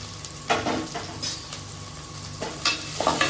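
Sliced onion and a green chili fry in a pan for a vegetable kurma, a steady close sizzle broken by scraping stirs.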